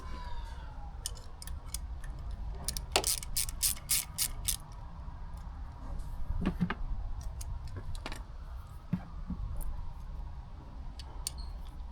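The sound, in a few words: removing the 8 mm bolt holding motorcycle brake pads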